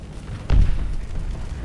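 A warship in the space game Starsector fires a supermassive round, a single heavy boom with a deep low thud that rolls into a lingering rumble.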